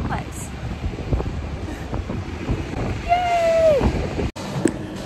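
Strong wind buffets the microphone on a cold street in Edinburgh, making a loud, rough roar throughout, with brief voices and a short squeak partway through.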